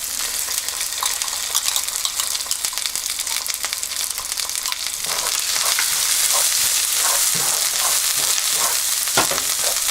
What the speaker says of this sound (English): I'm going to cook my garlic for about, I would say 2 to 3 minutes so that the garlic can get a little bit golden.